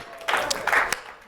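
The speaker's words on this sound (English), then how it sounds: "You get a golf clap for that one." A brief, quiet golf clap, a few polite hand claps close by, soft and sparse over about a second.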